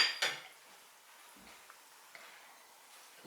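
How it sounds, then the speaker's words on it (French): A veal chop is set down on a plate with a sharp clatter of dishware at the start, followed by faint light clinks and taps in an otherwise quiet kitchen. "je le pose sur mon assiette"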